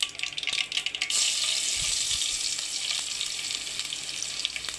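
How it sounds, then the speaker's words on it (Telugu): Tempering seeds splutter and crackle in hot oil in a pan while pudina rice is being cooked. Sharp pops come in the first second, then give way to a loud, steady sizzle close by. "పోపు గింజలు ఇలా చిటపటలాడంగానే"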